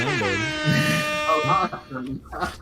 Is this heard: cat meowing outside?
no